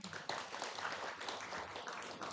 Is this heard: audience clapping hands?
yes